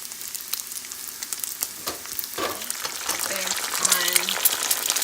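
Bacon frying in a pan on medium heat gives a steady close sizzle with crackling pops throughout, growing slightly louder toward the end, with faint vocal sounds partway through.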